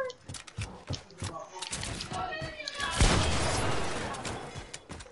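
Assault rifle fire in a shooter video game, rapid bursts that swell into a louder sustained volley midway, mixed with excited talk from players over the top.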